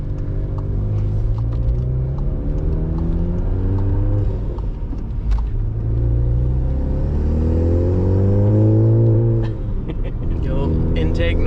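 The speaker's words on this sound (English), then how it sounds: "we definitely have a little more sound here because of the cat delete" A 2019 VW Golf GTI Rabbit Edition with a six-speed manual and a cat-delete exhaust, its engine droning loud and close as revs rise and fall in smooth sweeps, with a brief shift dip midway.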